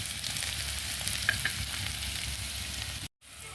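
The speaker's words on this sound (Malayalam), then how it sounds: "ഇതെല്ലാം കൂടെ നല്ലോണം ഒന്ന് വറുത്തെടുക്കാം കേട്ടോ." Spices and curry leaves roasting in a pan over a wood-fired stove while making a curry, giving a steady, close crackling sizzle throughout with a couple of brighter pops, cut off briefly by a short silence near the end.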